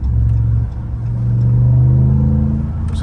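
A Ram TRX pickup truck engine rumbles low and then revs up, the deep growl rising and holding steady before easing slightly, close by with no talking.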